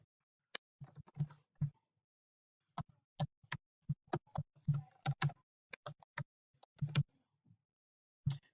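Keystrokes on a computer keyboard typing out an email address, a sparse run of close, crisp clicks in uneven bursts with short pauses between them, alone without talk.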